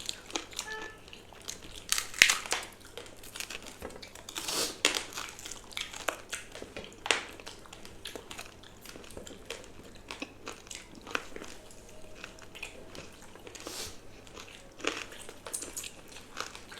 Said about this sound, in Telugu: ఇప్పుడు ఉల్లిపాయలు పెట్టుకొని తిందాం.